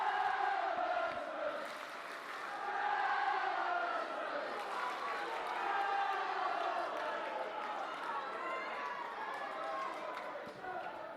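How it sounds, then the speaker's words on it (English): Stadium crowd roaring and cheering wildly for Featherstone Rovers at a rugby league cup match against Halifax, a loud sustained swell of many voices with a commentator talking over it. "Listen at the crowd go wild for Featherstone."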